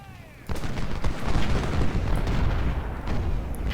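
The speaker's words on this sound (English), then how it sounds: "A very good volley by the 15th Alabama." Musket volley fired by the 15th Alabama in Ultimate General: Civil War, a sudden loud rolling crackle of massed gunfire that rumbles on for several seconds, with faint voices nearby.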